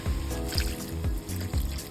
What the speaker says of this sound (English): Next, we add the water used to tenderize the meat.